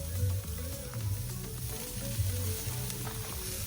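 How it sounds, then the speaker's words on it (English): Steady, close sizzling and crackling of duck fat, skin side down, cooking on a hot grill, continuous with small pops throughout. "Oh, that sizzle."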